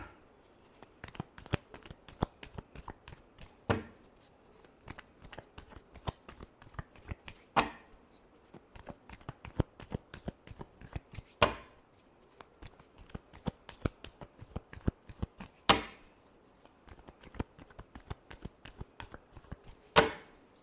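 Tarot cards being shuffled by hand, a steady run of crisp riffling slaps with louder bursts every few seconds, close and alone with no talking.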